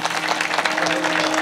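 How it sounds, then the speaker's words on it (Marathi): An audience at a devotional kirtan gathering in a village applauds, brisk, dense clapping that stays loud and even throughout the brief burst, with a faint tonal hum behind it. "टाळ्या वाजवा त्यांच्या नावाने।"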